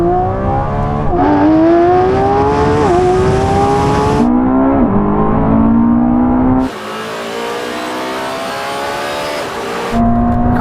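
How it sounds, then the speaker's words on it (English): Loud, close engines of a Lamborghini Revuelto, Ferrari SF90 and Porsche 918 Spyder roar as they accelerate hard from 30 mph, the pitch climbing steadily and dropping briefly at each gear shift. "Now we're going to have a rolling race from 30 miles an hour."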